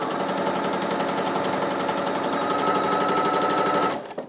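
A sewing machine stitches quilt pieces together for a Yellowstone-themed quilt, running in a fast, steady needle rhythm close by for about four seconds before stopping abruptly, with no talking.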